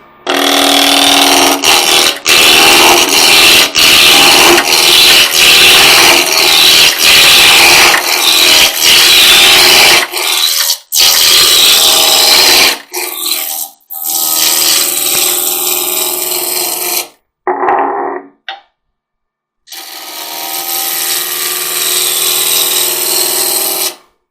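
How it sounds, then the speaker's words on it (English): Spindle roughing gouge cutting a wooden goblet blank on a lathe, a loud, steady scraping rasp that runs continuously with brief breaks, then drops to the quieter hum of the spinning lathe with short gaps. "we'll use the spindle roughing gouge again to turn it round"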